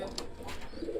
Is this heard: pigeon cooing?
yes